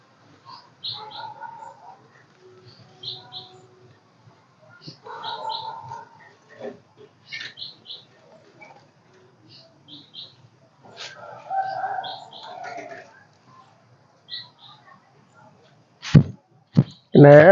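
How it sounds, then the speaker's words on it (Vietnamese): A female kéo đờn bird chirps in short, repeated high twittering phrases separated by quiet gaps, clear and fairly close. Sharp clicks or handling noises come in near the end. "chim kéo đờn mái. Con này dùng để kết bổi gọi bầy."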